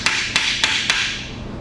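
A 3/8 socket hammered onto a worn part to cut new grooves, four sharp metallic strikes at an even pace, close and clear with no talk.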